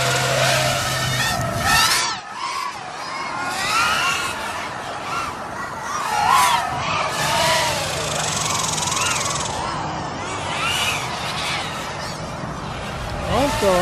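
A Raceflight BOLT FPV racing drone whines overhead, its motors rising and falling in pitch as it throttles up and swoops around, loud and close, with people talking over it.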